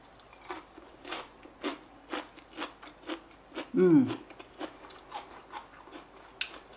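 Crisp bites and chewing of salted savoy cabbage leaves, a close, steady rhythm of crunchy chews with one louder crunch midway, no talking.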